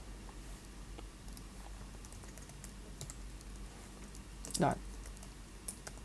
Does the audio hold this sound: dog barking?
no